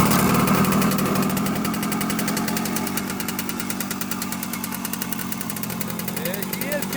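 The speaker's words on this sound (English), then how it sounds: "Test engine up and running." A home-built 6-to-12-volt test engine idles steadily on its stand, a dense, continuous mechanical rumble with a rapid, even pulse, loud and close throughout.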